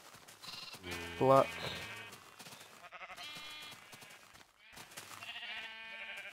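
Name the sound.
sheep bleating in the video game Minecraft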